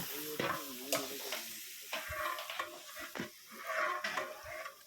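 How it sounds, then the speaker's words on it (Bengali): Khichuri cooking in a large pot for a wedding meal for about 300 people, with steady sizzling and frying under repeated stirring and scraping, a few louder clanks of a utensil against the pot, no talk. "এই পাশে খিচুড়ি রান্না হচ্ছে।"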